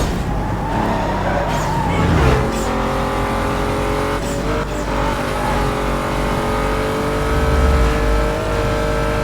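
A Dodge Charger engine in the Need for Speed Most Wanted racing game revs hard and holds a loud, steady droning tone through shifts, with brief rising pitches and faint tire noise, continuous and close.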